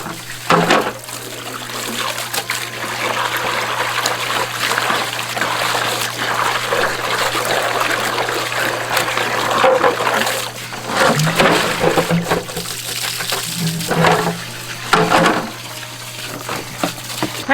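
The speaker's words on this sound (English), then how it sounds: "All right, we're gonna hose this one." A garden hose sprays water over a Tower Garden, a steady close hiss and splatter of water with brief shifts as the spray moves across the tower.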